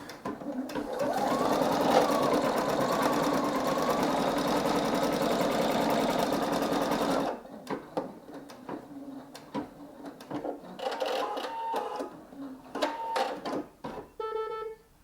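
A Singer EM9305 embroidery machine runs steadily for about seven seconds stitching basting stitches with a loud continuous whirring hum, then stops and only faint clicks and handling noises follow.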